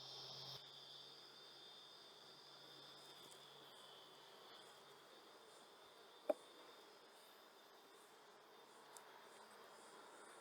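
Honeybees at an open hive give a faint, steady, continuous hum that fills the scene, with one sharp tick partway through and no voices.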